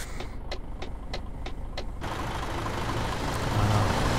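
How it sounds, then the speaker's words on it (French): A truck in Euro Truck Simulator 2 brakes hard, a close, steady engine and road rumble with a burst of rapid clicking at first, then a rising broad rush of air as it slows, with no talking. "Très gros freinage là."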